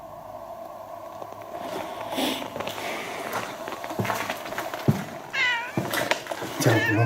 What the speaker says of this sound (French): Vous l'avez entendu miauler?